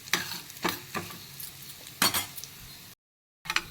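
Urad dal frying and being stirred in a hot pan for Karnataka-style spicy green tomato chutney: a soft steady sizzle punctuated by several scraping stir strokes, with a short silent gap near the end.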